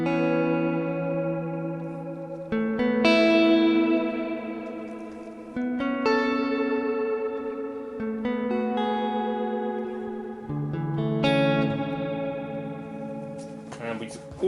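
An electric guitar played through a Line 6 DL4 pedal's reverb with modulation added rings out in sustained, shimmering chords that swell and blend into one another, with a lush wash of echo and gentle pitch wobble.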